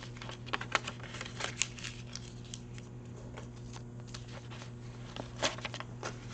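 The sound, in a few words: crumpling things up and putting them in a box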